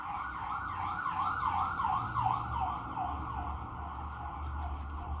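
An emergency vehicle siren wails continuously, rising and falling in a steady cycle over low traffic rumble.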